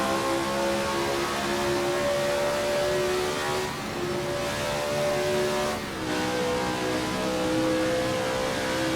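A 1967 Grand Prix race car in a South African Grand Prix racing game holds a loud, steady high engine drone at full throttle, with two brief dips where the pitch drops before climbing again.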